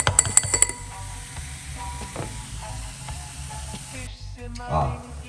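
A spoon clinks sharply against a glass a few times, then a soft fizzing hiss rises as a frothing baking soda and lemon drink is stirred, with a faint swirl near the end.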